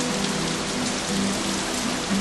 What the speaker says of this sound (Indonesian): kami turunkan hujan dari langit